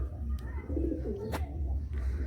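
Pigeons of Madrasi or Punjabi lines in a loft at Chandipur, Medinipur, give soft rolling coos, a few close calls over a low murmur of the flock, with a brief sharp knock in the middle.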